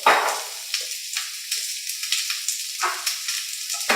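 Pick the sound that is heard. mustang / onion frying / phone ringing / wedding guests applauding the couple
onion frying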